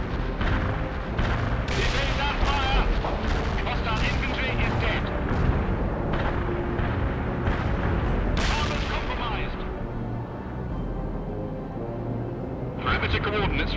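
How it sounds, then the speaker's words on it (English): Artillery strike explosions in the World in Conflict strategy game, a dense barrage of booms and cracks layered over a rumbling battle din, thinning out toward the end with a final burst. "Artillery strike hit for effect."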